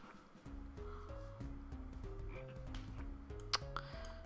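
Frog croaks from the video game Draw a Stickman: Epic 2 repeat in a stepped, musical rhythm of short, tuned pulses that rise and fall in pitch. There is a faint background bed and a brief sharp click near the end.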